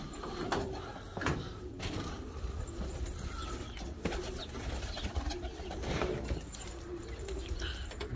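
Pigeons in a loft, with soft low cooing and occasional wing flaps and scuffing among the birds, a gentle, steady close-up murmur with no talk.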